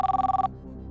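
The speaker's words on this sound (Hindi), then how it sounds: "कंप्यूटर जी, अनुराग शर्मा जी को फोन लगाया जाए।" Telephone ringing on a quiz show for a phone-a-friend call: one short burst of rapid electronic trilling that cuts off abruptly, loud and alone.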